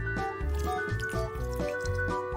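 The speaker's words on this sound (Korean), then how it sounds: "물기를 꽉 짜줍니다." Blanched water dropwort (minari), cooled in cold water, squeezed firmly by hand: close, wet squishing with dribbling water in a few bursts over a steady background hum.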